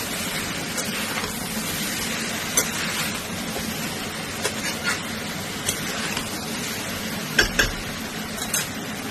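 A spatula scrapes and taps against a pan as jackfruit curry with turmeric is sautéed, giving light, irregular clinks over a soft steady sizzle, close and quiet, with no talking.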